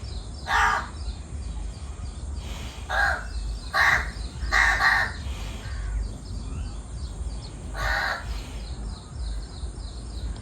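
A crow caws loudly and nearby in a series of harsh, separated calls, some doubled, over quiet outdoor background with no talk.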